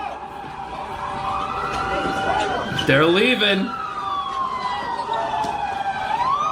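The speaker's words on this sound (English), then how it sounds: "Oh, you hear the police?" A police car siren wails in rising and falling sweeps at a looted site, sounding at moderate distance over low street noise while someone talks briefly over it.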